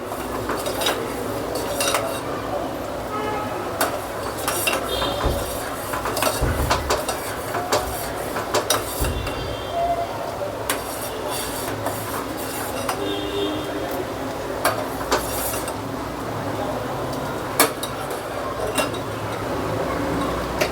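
A spoon keeps stirring milk for strawberry basundi in a metal pan as it thickens, producing frequent irregular clinks and scrapes of metal on metal over a low simmering background, with no talking.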